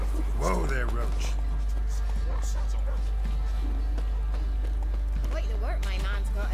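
The horse Roach's hooves clip-clop at a steady walk in The Witcher 3, soft and continuous beneath spoken dialogue and a constant low hum.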